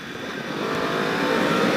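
A 2019 Kawasaki H2 Carbon motorcycle is held wide open through the lower gears, its engine roaring close and loud and climbing steadily in pitch with no talk.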